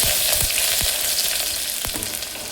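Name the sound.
onion frying and being stirred with cumin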